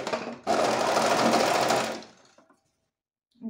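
Serger overlock sewing machine stitching an overlock seam: a loud, steady close whir that starts abruptly, runs about a second and a half, then winds down into quiet.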